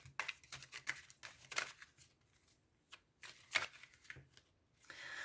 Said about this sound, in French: je vais tirer 3 cartes supplémentaires